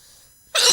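A single close, loud sneeze bursting in after near silence, sharp onset and lasting to the end.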